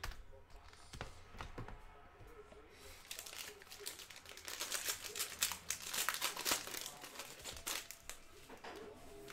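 A foil 2020 Panini Prizm NFL trading card pack being torn open, with crinkling and ripping bursts that build and grow denser toward the middle, close and fairly faint, with no talk over it.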